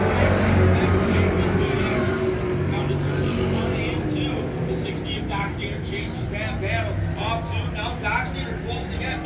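Race cars roar around the oval at Can-Am Speedway in Winthrop, New York, a loud steady engine drone with cars running side by side, under continuous announcer commentary.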